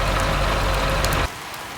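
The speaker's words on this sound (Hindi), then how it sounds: "आज तो बारिश रुकने का नाम ही नहीं ले रही।" Dense rain pours loudly as a steady hiss, then abruptly drops to a much quieter wash after about a second.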